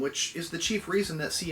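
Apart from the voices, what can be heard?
No everyday noises stand out.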